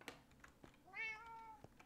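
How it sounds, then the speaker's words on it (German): A cat gives a single clear, drawn-out meow of about half a second, fairly faint against a quiet room with a few light knocks around it. "Ich höre eine Katze miauen."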